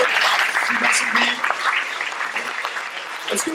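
Short burst of audience applause at a conference plenary session, steady clapping that thins slightly toward the end, with faint voices mixed in.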